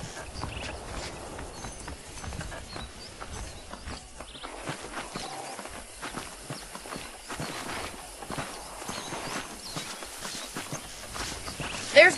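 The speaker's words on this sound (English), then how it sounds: "The horses are saddled up over here." Horse hooves clip-clop steadily across the ground in the Red Dead Redemption video game, a soft, continuous walking rhythm at moderate distance beneath faint ambient noise.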